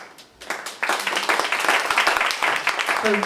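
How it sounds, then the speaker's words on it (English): Audience applause for the longtime hosts of a progressive open mic night, a dense crowd of clapping that swells in quickly and holds steady near the microphone. "give them a big round of applause"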